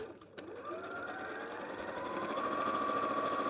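A domestic sewing machine stitching around the matched edges of fabric panels, a steady close mechanical whir that builds slightly and runs unbroken, with no talking over it.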